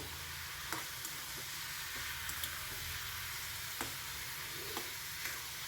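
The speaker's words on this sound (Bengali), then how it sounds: "মাছের মাথা কিন্তু কটকটে করে ভাজলে ভালো লাগে না মিডিয়াম ভাজতে হবে" Fish heads fry to a medium doneness in a pan of hot oil for a bottle gourd dish, giving a steady close sizzle broken by faint ticks and pops.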